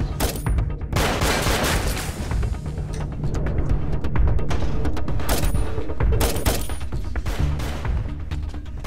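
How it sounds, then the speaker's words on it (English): Gunfire in a Steven Seagal action film, Angel of Death: a dense, loud volley of overlapping automatic shots and booms that continues steadily throughout. "We're taking fire."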